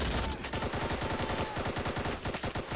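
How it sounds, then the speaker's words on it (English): An anti-aircraft cannon in the Call to Arms war game fires a sustained rapid burst, loud dense rhythmic reports hammering without pause, with no talking over it. "So this is what this AA cannon needs to do now, is continuously just fire here."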